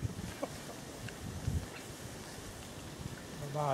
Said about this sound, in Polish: Tam daje pan radę w tym wietrze?